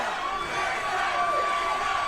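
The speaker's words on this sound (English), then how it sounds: "You can hear the crowd getting behind Melissa Parker" A boxing crowd roars and cheers steadily behind fighter Melissa Parker during a women's round, a dense, loud wash of voices and whoops with no break across the moment.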